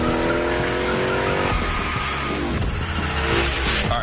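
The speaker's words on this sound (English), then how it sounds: "Let's see how you handled your first slides with the Hoonicorn." Hoonicorn car sliding through a gymkhana-style drift, engine roaring loud and steady while tires squeal and scrub continuously, close and alone without talk.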